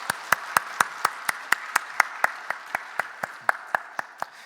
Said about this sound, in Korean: 감사의 박수를 올려드리겠습니다.